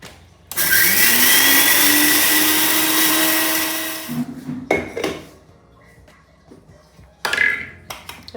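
Mixer grinder coarsely grinding fenugreek seeds and kalonji in a small cup: a loud, close, rising motor whine lasting about three seconds, then winding down, followed by clinks and knocks of the jar being handled.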